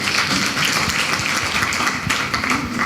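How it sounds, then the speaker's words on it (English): A live audience at a superstition-versus-science event in Athgaon, Assam gives a round of applause, close and dense clapping sustained evenly across the whole moment. "Can we give her a round of applause?"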